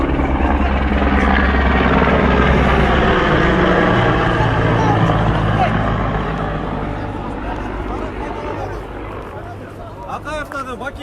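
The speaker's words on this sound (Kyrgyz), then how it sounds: "Вертолеттор келип баштады уже." Helicopters arriving over a Koy-Tash village during a special forces raid, a loud continuous rotor and engine drone filling the scene, slowly fading after a few seconds while voices talk underneath.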